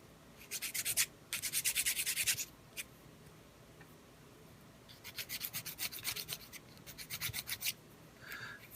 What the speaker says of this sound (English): The nice thing about these metal nail files over the, you know, the cardboard ones